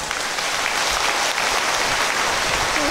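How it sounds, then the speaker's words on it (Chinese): Loud, dense applause from a large audience at a Moon Festival gathering, continuous clapping filling the space at an even level throughout. "鼓掌！"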